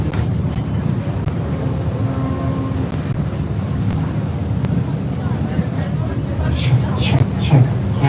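Staten Island ferry crossing New York Harbor toward the Statue of Liberty, a steady low engine rumble and wind buffeting the microphone on deck, with voices talking faintly at times.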